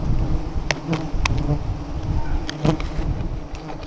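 A thick, steady hum of many bees circles their nest in the open, with individual bees passing near the listener in quick, loud buzzing swells.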